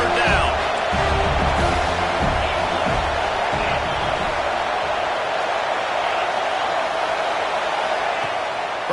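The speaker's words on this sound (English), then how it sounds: "Decibels rising as the crowd gets behind this defense on 3rd down." A loud football stadium crowd swells into a steady roar on third down, the broad wash of noise holding for the whole stretch while a commentator talks over it.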